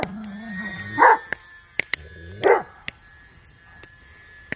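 A dog barks twice at a small electric model airplane, the UMX Turbo Timber, flown at night. The sharp, loud barks come a second or so apart over a steady high whine, with a few quiet clicks between them.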